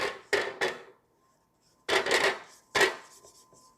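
A spatula scrapes the sides of a mixing bowl holding ladyfinger batter in a few short, dry rasping strokes, close and clear with quiet pauses between.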